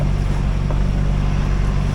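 A sailboat's inboard engine, newly aligned and fitted with a new shaft, runs steadily on its first trial, a continuous close drone blended with wind and water noise.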